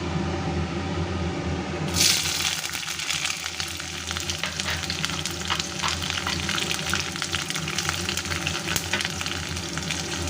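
Chopped onion drops into hot oil for a Bengali tomato and cauliflower curry, bursting into a loud, continuous close sizzle that holds steady, with faint stirring scrapes and no talk.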